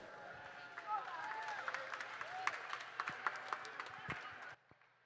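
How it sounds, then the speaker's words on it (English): Applause for swimmers at a youth swim meet in an echoing natatorium, moderate scattered clapping over crowd murmur and announcer talk, cutting off sharply near the end. "Give these swimmers a big round of applause."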